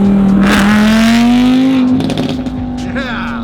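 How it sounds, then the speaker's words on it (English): An Audi R8 fitted with a titanium exhaust revs loud and close, the engine note climbing steadily then dropping off, with brief crackles and a voice over the end. "Now Chris has got a titanium exhaust on that R8, and it sounds so good."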